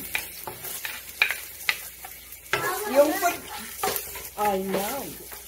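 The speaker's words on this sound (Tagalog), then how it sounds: "Mag-umpisa na tayo sa paggigisa muna ng bawang." Garlic starts sautéing in hot vegetable oil with an uneven crackling sizzle, interrupted by stirring clatter, while a voice talks over the cooking.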